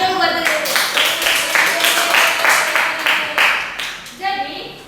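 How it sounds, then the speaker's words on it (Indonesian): A classroom group applauds themselves during a microteaching practice lesson, a dense burst of many hands clapping for several seconds, fairly loud and close, with a voice speaking briefly at the start and end. "Tepuk tangan dulu buat diri."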